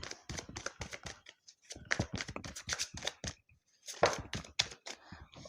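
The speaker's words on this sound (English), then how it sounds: "we'll shuffle it again" Tarot cards shuffled by hand, a quick series of crisp riffling bursts and flicks in two main runs with a short pause between, close and clear.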